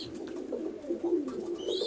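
Pigeons in a loft coo softly and steadily, a low murmuring drone of several birds close by, with a faint chirp near the end and no voices.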